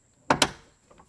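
Two sharp pops from a bent check link roller in the front door of a GM OBS Chevy or GMC truck as the door swings, close and distinct, followed by a faint softer knock.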